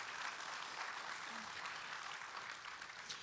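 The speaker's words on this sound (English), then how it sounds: "just another big round of applause for the Roccos" Audience applause at a Marines' birthday ball, a steady wash of clapping filling the whole moment at moderate loudness with a faint voice mixed in.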